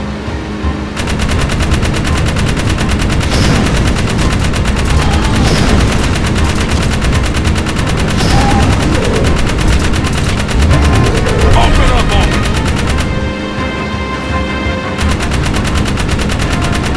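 A vehicle-mounted gun firing in the video game Jak 3, dense rapid bursts of loud gunfire running nearly continuously over a rumbling engine.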